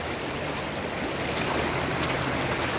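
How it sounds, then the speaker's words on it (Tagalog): Steady rushing of flowing river water fills the scene, constant and fairly close, with no voices. "matawid tayo sa ilog"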